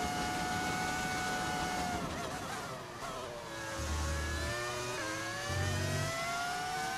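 F1 25 racing game car running a V10 engine audio mod, a high whining engine note rising and falling with gear changes and lifts, steady and prominent with no talking.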